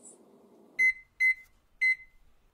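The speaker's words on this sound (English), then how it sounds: "put the mixture in the microwave for 10 seconds" A microwave oven heats a jelly candy mixture, finishing with three loud, evenly spaced beeps in a quiet room after a faint low hum.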